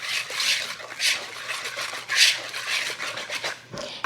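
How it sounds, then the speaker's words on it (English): Chocolate cupcake batter being mixed in a bowl, a steady run of close scraping, swishing strokes with repeated rhythmic pulses and no talking. "And we're just gonna continue to mix all that together."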